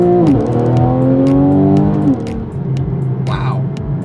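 Porsche 911 engine pulling hard on an open driving road, a loud rising harmonic drone that climbs steadily in pitch for two seconds, drops back, then settles into a steady engine hum with a brief burst near the end.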